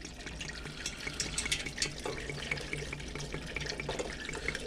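Cold tap water runs steadily into a pot of chicken bones and herbs for stock, a continuous close splashing pour with no talking.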